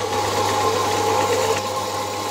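A weighted saw blade grinds slowly through a hard bronze workpiece being made into a vice nut, a steady droning mechanical hum that continues without a break.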